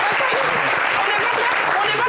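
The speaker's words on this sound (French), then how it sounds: "On applaudit." Studio audience on a French-language live TV show breaks into steady, dense applause, loud and close, filling the whole moment with mixed cheers and voices underneath.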